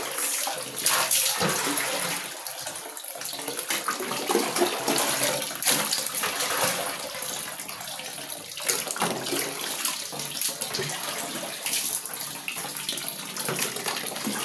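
Water runs steadily as it is transferred into storage containers, a continuous splashing, gurgling gush that lasts throughout with slight surges and no talk.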